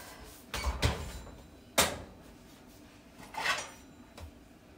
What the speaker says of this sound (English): I'm gonna go ahead and put it in my oven and then let it sit there for 45 minutes.